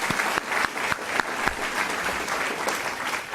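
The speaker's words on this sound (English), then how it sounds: "Deserves a round of applause as well." Board of education meeting audience applauding team captain Billy McGuire with brisk, fairly loud clapping from a roomful of people, dense and continuous, with sharp individual claps standing out near the front.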